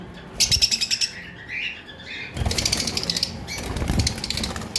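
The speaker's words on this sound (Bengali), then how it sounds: "দুইটা পাখি অনেক বেশি চঞ্চল খাঁচাটা একটু বড় দেওয়ার কারণে উড়াউড়িটা একটু বেশি করতেছে" Opaline lovebirds, a pair kept in a roomy cage, flutter about in quick bursts of wing flapping with a few small chirps, close and fairly loud, with no talking.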